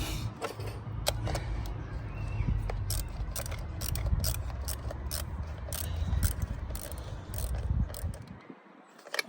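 A ratchet tightens a 10mm nut on a diesel injector of a 2011 Toyota Avensis T270 2.0 D4D, giving rapid close-up clicking bursts in short repeated strokes with no talking.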